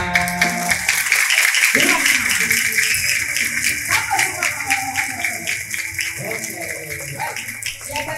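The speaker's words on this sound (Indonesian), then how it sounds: "Coba kakak mau dengar suara tepuk tangan yang paling meriah." Children's applause at a Maulid Nabi Muhammad SAW celebration at TPQ Al Ihsan rises as a dense, loud, sustained clatter of many small hands, with an adult voice speaking over it.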